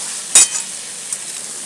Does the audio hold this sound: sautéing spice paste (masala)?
yes